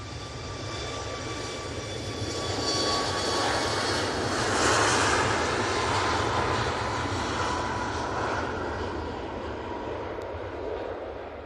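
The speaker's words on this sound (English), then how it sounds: "You can hear the prop making its way over towards us." Propeller airliner approaching overhead at Manchester Airport, a broad steady engine roar that builds gently toward the middle and holds, heard from the ground with no talk.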